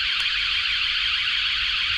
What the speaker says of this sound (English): activates all the alarms on the van